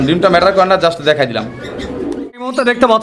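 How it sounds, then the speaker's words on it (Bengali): Pigeons coo in low, repeated throaty calls close by at a pigeon seller's place, with voices talking over and between the cooing. "এখানে আরো কবুতর আছে আর আপনারা দেখেন"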